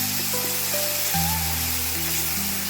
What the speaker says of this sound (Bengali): গ্যাসের ফ্লেমটা লো করে খুব ভালো করে কষে নেব।